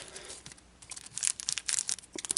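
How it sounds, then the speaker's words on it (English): A plastic baggie holding cable ties being cut open, a close crinkling and rustling of thin plastic that grows busier and louder toward the end. "cut this baggie open with the cable ties"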